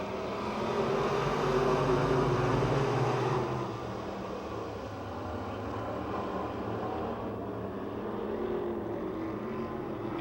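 Race cars roar around the Pennsylvania Motor Speedway oval, a dense far-off engine drone that is loudest at first and then settles into a steady, slightly fainter pack rumble with no voices.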